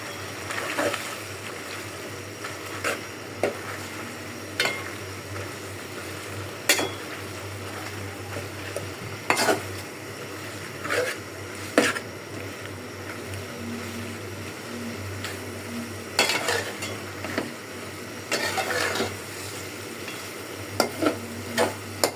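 Malabar spinach stalks and leaves with green chillies stir-fry in a pan, giving a steady low sizzle broken by sharp scrapes and clinks of a spatula stirring throughout.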